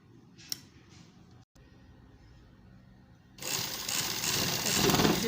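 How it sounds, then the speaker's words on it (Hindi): Sewing machine stitching the side seam of a flare shirt: quiet room ambience with a faint tick, then the machine starts up and runs loud and steady, whirring continuously to the end. "दूसरी साइड की सिलाई लग रही है।"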